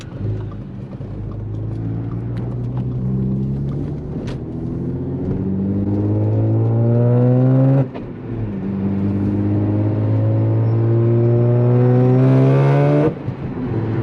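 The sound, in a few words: Audi S4 accelerating at about quarter throttle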